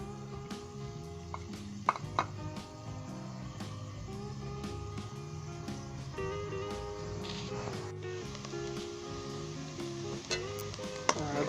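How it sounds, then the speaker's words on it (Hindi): Onions browning in about five tablespoons of vegetable oil in a kadai for Lahori chicken biryani, with a steady close sizzle and occasional clinks of stirring throughout. "तो सबसे पहले हम प्याज को ब्राउन करेंगे।"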